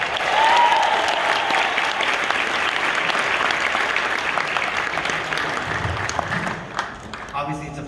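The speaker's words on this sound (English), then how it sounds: "give it a round of applause." A conference crowd at RiseCon 2023 claps in sustained, dense applause that fills the hall, fading slightly toward the end.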